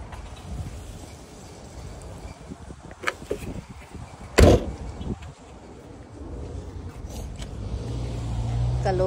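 Steady road rumble inside a moving car, with a low engine drone and a sharp knock partway through; voices talk intermittently over the cabin noise.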